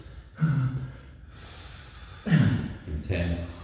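Pursed-lip breathing during an athletic workout: two strong breaths, each a drawn-in inhale followed by a pushed exhale, close to the microphone with a short pause between them.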